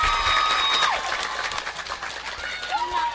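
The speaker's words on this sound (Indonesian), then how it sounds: "tepuk tangan dulu" An audience at an Islamic religious lecture claps in a short burst of applause that fades under talking voices.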